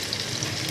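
Onion, white cumin, whole red chilies and curry leaves fry in hot oil for a tempering, giving a brief, soft, continuous sizzle.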